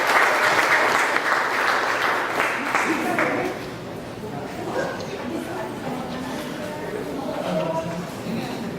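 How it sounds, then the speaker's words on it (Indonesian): Audience applause at a small-business networking seminar opening, loud clapping that fills the first few seconds, then fades into scattered claps and murmuring crowd noise with some talk. "Tepuk tangan dulu."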